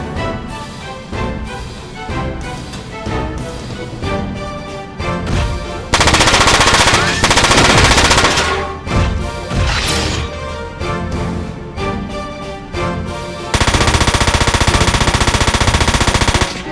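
Heavy machine-gun fire in the video game Front Mission 4, loud rapid bursts and repeated impacts, with sustained dense volleys midway and near the end, no speech.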